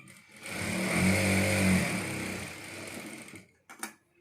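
A sewing machine stitches a folded fabric edge on a garment's back and hands, a steady whirring hum that speeds up and then slows over a few seconds before stopping, close and alone, ending with a couple of soft clicks.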